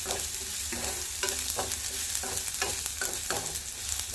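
Carrots, tomatoes and onions are stir-fried in a pan for soya Maggi, with a soft continuous sizzle broken by regular scraping strokes of a spatula and no voices.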